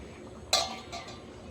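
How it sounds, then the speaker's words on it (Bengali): A lid is lifted off a cooking pot of taro boiling with prawns over a clay stove, giving a single sharp metallic clink followed by a faint clatter, close and clear against a quiet kitchen background. "10 মিনিট হয়ে গেছে, ঢাকাটা উঠিয়ে নেবো।"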